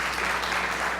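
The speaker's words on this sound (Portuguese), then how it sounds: "vamos dar um aplauso ao Senhor pela vida dela" Brief congregational applause in a church honoring pastor Anita on her 72nd birthday, an even wash of clapping from many hands lasting about a second.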